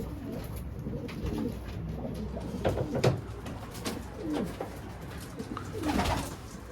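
Adana pigeons cooing at a breeder's loft, several soft throaty coos rising and falling in clusters over a steady low murmur of birds, with a faint high tone early on.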